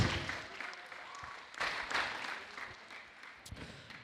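Applause from a crowd at a sim racing event's results, a steady wash of clapping that swells in the middle and then tapers off, moderately loud with no voices over it.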